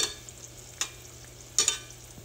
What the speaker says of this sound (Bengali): একটা স্পুনের সাহায্যে আমি এরকম উপরে একটু তেল দিয়ে দিচ্ছি